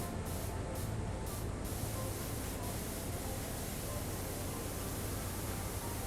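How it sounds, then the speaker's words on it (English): A pressure washer in the Powerwash Simulator video game sprays continuously, a loud, even hiss with no pauses, heard alone throughout. "you need multiple swipes to make up for the little gaps in the spray"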